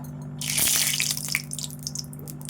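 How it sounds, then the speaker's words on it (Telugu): Water splashes and trickles briefly as a surface is wiped down with water while preparing vadas, a short wet burst followed by faint drips, close by with no talking. "ఈ దీనికి ప్రతిసారి ఇట్లా వాటరు ఇట్లా నీళ్ళతో తుడుచుకోవాలి దీన్ని శుభ్రంగా"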